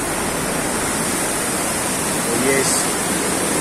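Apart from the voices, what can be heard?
Felidia river flowing water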